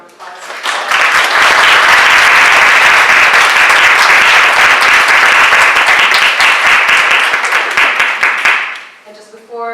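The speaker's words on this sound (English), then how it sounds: "Let's give a round of applause." An audience gives a loud, sustained round of applause for panel speakers at a remembrance panel, a thick wash of clapping that swells quickly, holds for about eight seconds, then fades as a voice begins speaking.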